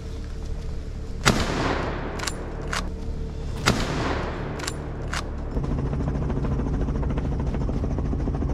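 Helicopter rotor thump and engine roar run continuously, loud and steady, punctuated by several sharp bursts that sound like gunfire, during a helicopter hunt.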